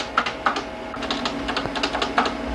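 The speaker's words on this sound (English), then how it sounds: "his electronic typewriter." Rapid, uneven clatter of typewriter keys, with sharp clicks in quick bursts, close and steady against a faint background hum.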